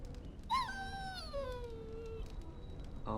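A dog whines in the fantasy role-playing game Dragon Age: Origins, one long high descending whimper that slides downward and fades, clear against a quiet low ambient bed.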